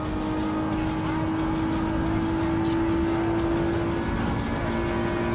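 Mazda Roadster race car in Gran Turismo 7, a Clubman Cup Plus event, its engine holding a steady high drone at sustained revs, loud and close, with other cars faintly passing.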